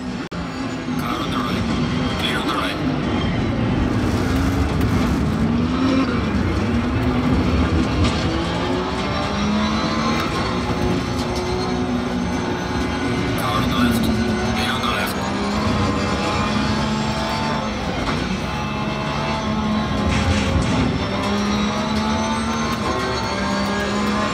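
A racing car engine roars continuously on a motion sim racing rig, its steady drone shifting in pitch as the car accelerates and revs, loud and sustained with no talking.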